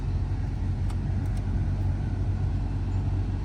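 Air vents in a Nissan Skyline R34 sedan blow hard and steadily after a filter change, a constant close broadband rush with no talk over it.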